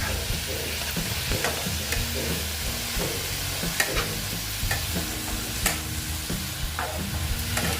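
Grated or chopped radish fries and is stirred in a pan for a Bengali radish dish, giving a steady close sizzle with repeated scraping and stirring clicks. No voices are heard.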